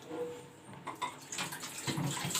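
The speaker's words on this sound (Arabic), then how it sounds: "يلا اغسل مواعين يلا" Water runs from a tap into a kitchen sink while dishes are washed, a steady splashing wash with clinks and shifts of flow, fairly quiet and close, with no talking.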